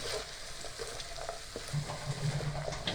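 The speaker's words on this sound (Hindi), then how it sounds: "साथ ही हम इसमें बंद गोभी शामिल कर देंगे। तो इस पेस्ट के साथ ही हम भून देंगे।" Shredded cabbage fries with a spice paste in a pan, giving a soft, steady sizzle with light scraping stirs throughout and no voices.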